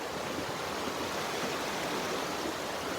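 A river at a hiking-trail crossing on the Foothills Trail rushes in a steady, dense broadband wash with no breaks, close and constant throughout.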